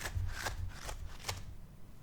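Cards shuffled for a card reading, several soft papery riffles over a low steady background hum, close but quiet, with no voices.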